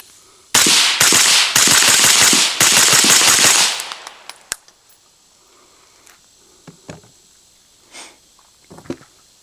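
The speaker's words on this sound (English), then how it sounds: "now let's fire some multiple shots. Rhodie 6." A string of rapid shots from a 5.56 rifle fitted with a Rhodie 6 suppressor comes as loud, sharp cracks in quick bursts over a few seconds. Quieter scattered clicks and handling sounds follow in the relative silence.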